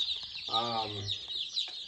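Soft high peeping of many small baby chicks in a brooder box fills the background, with one louder harmonic cluck or chirp rising briefly in the middle.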